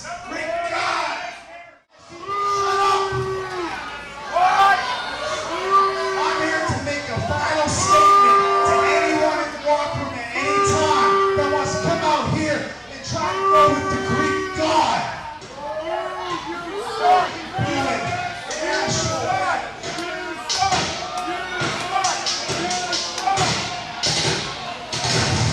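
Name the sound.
wrestling crowd shouting "what"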